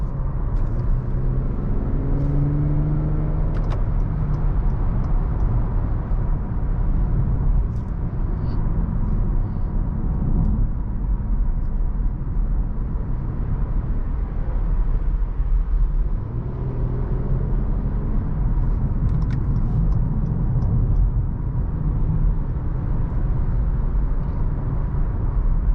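A 2018 Acura TLX sedan is heard from the cabin while cornering through a highway cloverleaf. A steady, loud low rumble of engine and road noise runs throughout, with faint shifts in pitch as speed changes.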